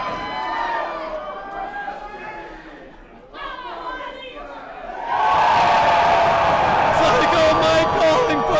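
Wrestling crowd at the Longboat Hall during a Superkickd show, chatter and shouts building through the first half, then surging after about five seconds into a loud, sustained roar of cheering that fills the hall.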